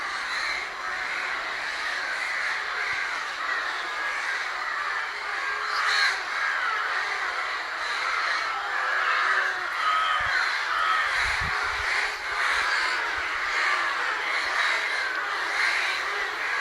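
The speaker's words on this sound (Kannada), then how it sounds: "ಇಲ್ಲಂತೂ ಎಷ್ಟೊಂದು ಕಾಗೆಗಳು ಕೂಗ್ತಾ ಇದೆ" Many crows cawing together in the evening near trees at the temple grounds in Sringeri, a dense, continuous chorus of overlapping caws at moderate distance with no speech.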